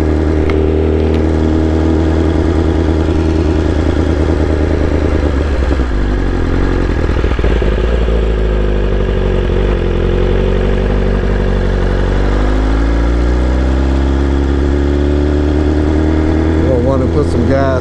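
A motorbike engine runs steadily up close for the whole stretch, a loud idling rumble with a low throb that dips and swells slightly as the revs shift, with no talk over it.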